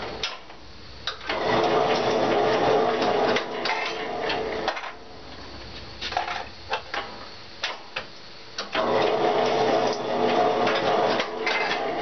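A can sealing machine crimps lids onto tuna cans packed with kits, running in long loud whirring, clattering stretches broken by a quieter spell of separate ticks and knocks.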